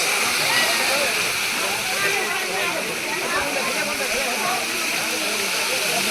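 A steady, loud rush of falling water fills the scene, a dense continuous roar with faint voices buried underneath.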